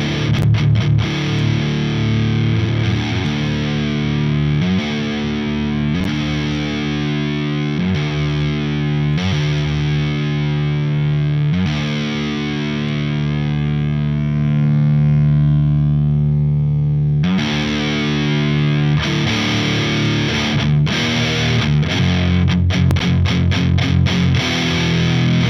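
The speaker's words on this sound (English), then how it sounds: "it's got that typical flubby sort of rectifier sound to it" Heavily distorted electric guitar through a high-gain rectifier amp simulator, chugging thick, loose, flubby low-end chords and sustained notes, a dense high-gain tone playing continuously without any talking.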